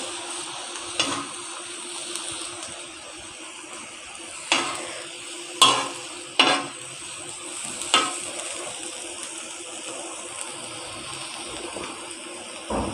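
Chicken shawarma filling of mince and soy sauce being mixed in a hot pan: a low continuous sizzle with a series of distinct spatula scrapes and knocks spaced a second or two apart, close and without voices.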